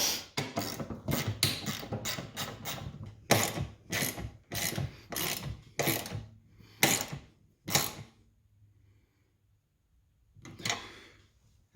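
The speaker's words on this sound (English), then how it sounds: "take the new bolt from the kit, which is a 10mm head, and tighten this bracket down" A ratchet tightens a 10mm bolt on a bracket of a Ford F150 Raptor, heard as close, crisp bursts of rapid clicking strokes that come in a quick run, then spread out before a pause and one final burst.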